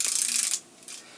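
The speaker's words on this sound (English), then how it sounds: "Stitch moves some books and they sound like this." Books being moved and slid across a surface, a brief dry scraping rustle that fades after half a second, then a faint soft shuffle.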